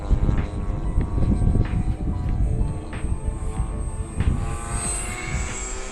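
A gas-powered RC model airplane, a Dynam Cessna 188 with 1500mm wingspan, drones overhead flying low, its buzzing pitch rising and falling as it passes fairly close, with faint outdoor background.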